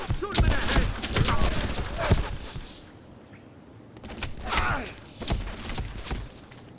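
Bursts of gunfire in the third-person shooter game Made Man: Confessions of the Family Blood, with sharp rapid shots clustered in volleys, a brief lull midway, then more shooting, mixed with shouted voices.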